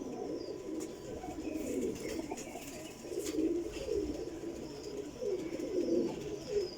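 Golden Teddy pigeons cooing in a loft, soft repeated low throaty coos in rolling phrases, near and fairly quiet, with faint ambient noise behind.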